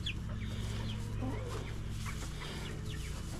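Hens and a rooster cluck in a backyard flock, with steady overlapping clucks and calls close by against a constant low hum, no one talking.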